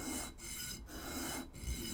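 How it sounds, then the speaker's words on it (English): Close, quiet abrasive rubbing as a silver and brass ring is sanded by hand, a raspy scratching in short strokes with brief pauses between them. "So what I'm doing now is sanding."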